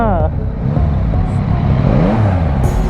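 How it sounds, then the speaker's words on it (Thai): A Yamaha MT-09 with its three-cylinder engine, loud and close, rising and falling in pitch as the throttle is blipped, with people talking over it. "เสียงสามสูบไม่ธรรมดานะเนี่ย"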